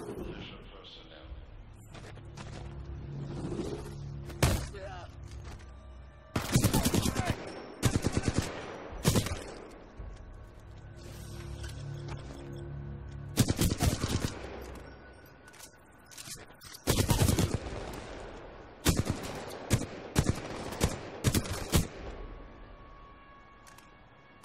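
Bursts of gunfire from the sci-fi shooter Titanfall 2, rapid automatic volleys and single loud shots recurring throughout, close and punchy, with game voices and background music between them.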